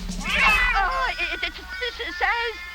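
A cartoon cat gives loud, drawn-out meows with a wavering, caterwauling pitch, repeated several times up close.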